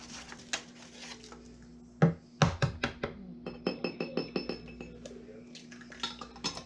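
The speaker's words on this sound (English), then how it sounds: "Got to put two eggs in it" Two eggs cracked into a boxed brownie mix in a kitchen, heard as a run of sharp clinks and taps of shell and utensil against a bowl, close and fairly quiet, with faint background hum.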